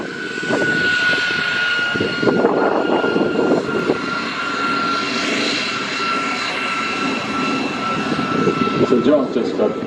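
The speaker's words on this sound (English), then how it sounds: "on this occasion we've only got the one jet here" A jet aircraft engine roars steadily with a high whine, loud and close, at an airshow as a single jet prepares to take off, while a voice talks over it intermittently.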